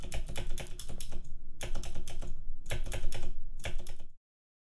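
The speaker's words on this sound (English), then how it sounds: "keep pressing your space bar, is pretty much the loudest key on the keyboard, until you cannot hear the clicking sound" Fast typing on a computer keyboard with space bar presses, heard up close in three dense bursts of clicking separated by short pauses, then sudden silence.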